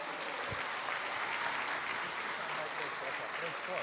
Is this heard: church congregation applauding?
yes